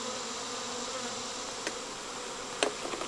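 A honeybee swarm with bees fanning produces a dense, steady buzz at a constant level throughout, close by, with a couple of faint brief knocks near the end.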